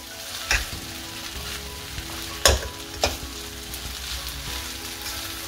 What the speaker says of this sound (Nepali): यो स्पाइगेटीलाई म मिडियम हिटमा 5 मिनेट जति फ्राई गर्छु